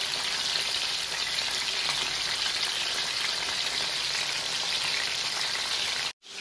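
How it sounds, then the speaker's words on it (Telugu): Chicken lollipops deep frying in hot oil make a loud, steady, close-up sizzle that crackles like heavy rain, broken by a brief silence near the end, with no talking. "చూడండి ఎంత బాగా ఫ్రై అయిపోయింది."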